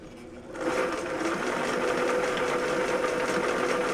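A sewing machine fitted with replacement nylon gears starts up and runs smoothly with a steady, even whir that continues to the end.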